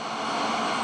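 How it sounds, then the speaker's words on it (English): A turbine jet engine on a modified pulling tractor at a tractor pull in Macon, Missouri, gives a steady, loud, high whine with a rushing roar, held without a break through the short moment. "yes, that is the sound of a jet engine"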